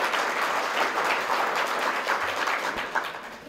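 Steady audience applause at a talk on Southern Black chefs in the White House, dense and even throughout before tapering off at the end.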